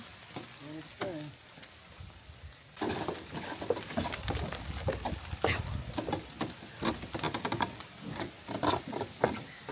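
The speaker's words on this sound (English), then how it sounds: "Here comes the rain." Rain begins pattering on a surface, a dense spray of small drops that builds from quiet into steady patter, with soft voices briefly underneath.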